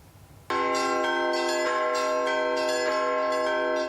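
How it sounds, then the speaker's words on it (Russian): Bells of the Kazan Icon of the Mother of God cathedral burst into ringing, rich sustained tones with repeated strikes layered in a steady peal, loud and close. "Колокольным звоном встречает верующих собор Казанской иконы Божьей Матери"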